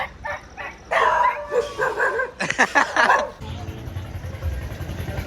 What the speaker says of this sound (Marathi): कुत्र्यांचा आवाज।